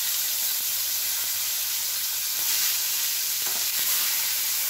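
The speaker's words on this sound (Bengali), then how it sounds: "এই ফোড়নটা দিলাম আর দিয়ে দিচ্ছি একটুখানি টমেটো" A little tomato drops into hot oil tempering in a pan for Bengali potol doi posto: a steady bright sizzle and hiss of frying, with a few soft stirring knocks. It is close and continuous, with no talk.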